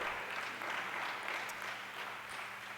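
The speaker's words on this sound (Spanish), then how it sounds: "Démosle ese aplauso a nuestro Padre." A church congregation applauds during a service, soft and somewhat distant, a steady wash of clapping that holds evenly for a few seconds with no speech over it.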